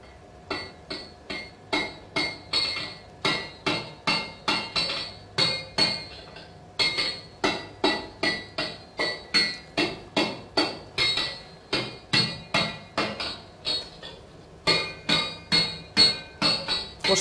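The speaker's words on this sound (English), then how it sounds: "There's someone working with metal and a hammer" Steady hammer blows ring out on metal, dozens of sharp clanging strikes in an even rhythm with brief pauses between runs.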